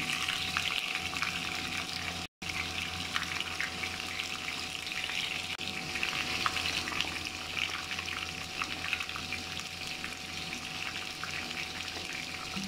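Eggplant pieces fry in hot oil for a mutton-and-eggplant talaji, giving a dense, continuous bubbling hiss that holds steady throughout apart from one brief dropout.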